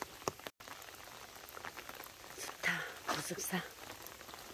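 Rain falling at Buseoksa temple, a steady patter with scattered drops hitting nearby surfaces, heard under a person talking.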